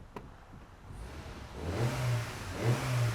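A car engine in a garage starts at a low idle and then revs up twice in quick swells, loud and close.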